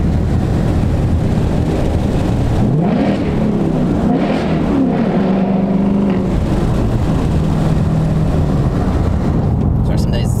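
A Ford Mustang hybrid test car's engine drones loudly and steadily throughout, with a rising and falling tone in the middle as the revs shift, while a person talks over it.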